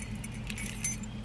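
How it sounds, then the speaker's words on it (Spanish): A bunch of keys jangles close by with light metallic clinks and a brighter chink near the end, over a low steady background hum. "miren, aquí ya llevo mis llaves."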